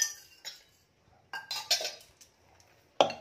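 A metal pan is set down on a kitchen stove for heating before cooking a wheat-flour pizza base, giving a few sharp, separate clanks and clinks with quiet gaps between them, close and fairly soft.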